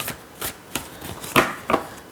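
A deck of large tarot cards is shuffled by hand, giving a quick series of soft riffling slaps and flutters, close and clear, with no talking.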